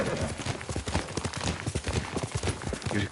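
Horse hooves clip-clop in a steady, close rhythm with a brief whinny in Ghost of Tsushima, the game's ambience filling in underneath.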